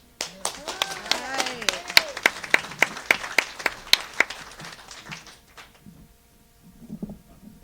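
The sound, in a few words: audience applause for Cory Seznec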